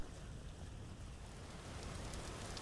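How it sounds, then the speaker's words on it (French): Steady, soft rain hisses in the Vintage Story video game, a faint, even wash of noise with no pauses or other sounds. "voilà qu'il pleut"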